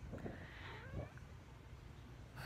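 A cat meows a couple of times, a drawn-out, wavering cry up close over a low background hum, followed by a brief rustle.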